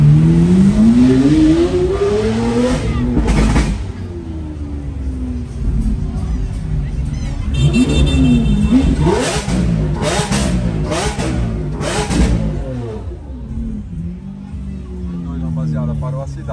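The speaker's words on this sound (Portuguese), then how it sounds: "Ferrari acelerou" Ferrari supercar accelerating and revving on a city street in Balneário Camboriú: loud rising engine notes sweeping up through the gears, repeated revs close by, with a crowd talking and shouting throughout.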